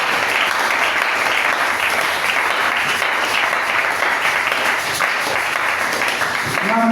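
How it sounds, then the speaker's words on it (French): Church congregation applauding at an evangelical Sunday service, dense sustained clapping from a large crowd, loud and even throughout with no pauses. "Acclamez pour la gloire du Seigneur."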